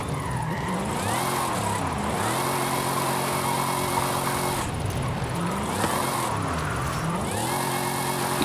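A car engine in Forza Horizon 5, revving repeatedly in rising and falling sweeps with some skidding, steady and close for several seconds.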